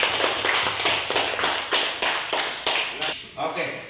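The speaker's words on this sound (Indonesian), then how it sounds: "tepuk tangan untuk kelompok algoritma" A classroom group claps in a steady run of sharp, evenly spaced claps lasting several seconds, heard up close.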